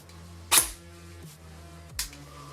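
Two sharp airsoft MP5 shots fired through a chronograph, each a brief crisp snap about a second and a half apart, close and loud above a faint steady background hum.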